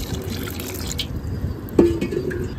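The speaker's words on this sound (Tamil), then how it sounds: "இப்போ நம்ம தண்ணி ஊற்றிடலாம்." Water is poured onto yellow Bangalore rose cuttings in a terrace garden, a soft, steady splashing trickle at moderate volume with one brief knock partway through and no voices.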